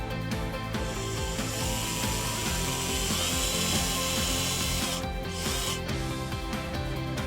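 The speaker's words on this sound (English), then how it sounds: "Now we'll drill a hole in there." A power drill whines continuously at close range, boring holes in a boat swim step during flooring installation, its pitch wavering, with a brief dip near the end before resuming.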